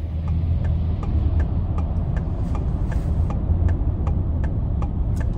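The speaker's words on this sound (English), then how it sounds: "So Atlanta traffic is ghetto." Atlanta street traffic heard from inside a moving car: a constant low road and engine rumble with a steady, regular ticking, like a turn signal, running throughout, no talking.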